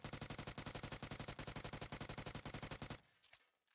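Rapid automatic rifle fire in PUBG, a long fast burst of 35 evenly spaced shots ending abruptly, followed by faint mechanical clicks.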